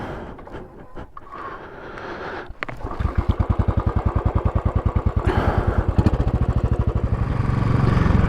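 Motorcycle out on Bodmin Moor, its engine idling roughly at first, then revving up and settling into a steady, rhythmic pulsing drone that grows louder and fuller toward the end as the bike gets under way.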